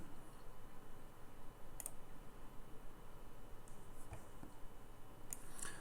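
A few soft, sparse computer mouse clicks sound quietly against a faint background hiss, each one short and isolated.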